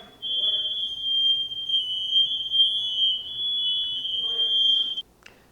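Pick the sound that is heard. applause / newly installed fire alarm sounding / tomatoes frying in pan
newly installed fire alarm sounding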